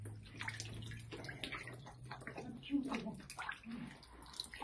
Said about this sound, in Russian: Вот оно течет с этой трубы